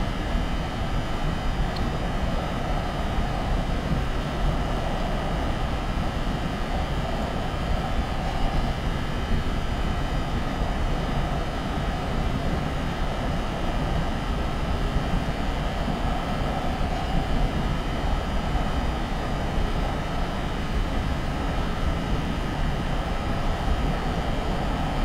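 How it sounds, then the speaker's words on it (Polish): A simulated train on the North Jersey Coast Line in the Train Simulator game pulls away slowly, giving a steady, dense low rumble and drone that holds evenly throughout with no speech. "Pociąg bardzo powoli rozpędza się"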